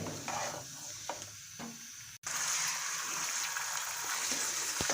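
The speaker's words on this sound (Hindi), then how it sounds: "ये चिकन हमने इसमें ऐड कर दिया है और इसको करेंगे फ्राई" About 1.5 kg of chicken fries in a pot, giving a steady loud sizzle with scraping stir strokes. A short gap breaks it midway before the sizzling comes back stronger.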